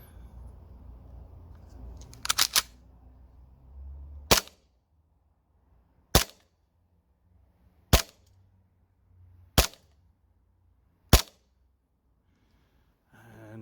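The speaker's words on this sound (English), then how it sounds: "let's take this awesome pistol outside and shoot this thing" A Tokyo Marui M45A1 gas airsoft pistol fires green gas with 0.2 gram BBs outdoors, six sharp cracks, two quick then four spaced evenly about two seconds apart, after some low rustling.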